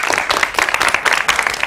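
A crowd claps continuously in dense, rapid applause on a morning TV show, fairly loud and steady throughout.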